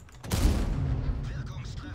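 A single heavy tank cannon shot from the Leopard PT A in a video game booms sharply, followed by a rumbling decay, loud and close.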